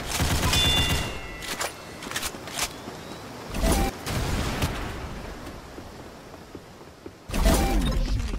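Gunfire in a Roblox team game, with loud bursts of rapid shots in three separate volleys and a few scattered single cracks between them, no talking.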